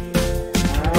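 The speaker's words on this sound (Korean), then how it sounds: "외양간에는 송아지" Calf mooing in a farm-themed children's song, two short close moos in quick succession over a light musical backing.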